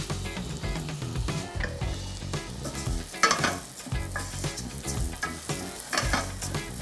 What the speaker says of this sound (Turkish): Yaklaşık böyle 2 çorba kaşığı kadar zeytinyağını koydum. Ondan sonra soğanları direkt içine atıyorum.